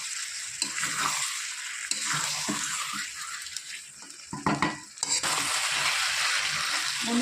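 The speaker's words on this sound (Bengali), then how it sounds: "বন্ধুরা কষানো প্রায় আমার হয়ে এসছে, আর একটু কষিয়ে আলু দিয়ে জল দিয়ে দেবো।" Chicken kosha being stir-fried in a pan with spices: loud, continuous frying hiss with repeated scraping and stirring strokes, close and busy, with no voices.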